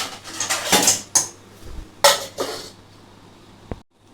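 A bowl of semolina batter for a mango cake being covered in a kitchen: sharp clinks and clatters of dishes and cutlery in a few quick clusters, close by, with a brief throat-clearing sound between them.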